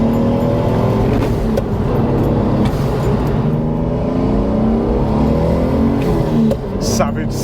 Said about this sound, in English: Savage second gear.